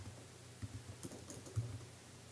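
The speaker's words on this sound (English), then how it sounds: "I'm going to just type in before content" Light, rapid keystrokes tap on a computer keyboard, a short close run of soft clicks at low level with no voice.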